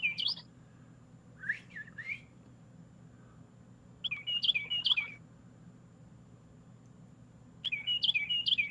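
A songbird chirps in short bursts of high, bright calls at daybreak, with several separate phrases spaced a few seconds apart over a low, steady background hum.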